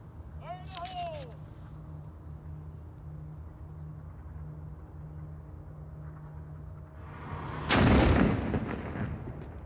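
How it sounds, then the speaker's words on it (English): A single loud ceremonial cannon boom at a yacht club's opening day near the end, after a stretch of quiet outdoor background with a brief tonal call early on. "Please prepare for the cannon shot."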